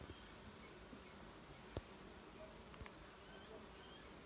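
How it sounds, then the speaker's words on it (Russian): A swarm of bumblebees and bees buzzes faintly and steadily outdoors, a soft continuous hum with a couple of brief clicks. "шмели и пчелы."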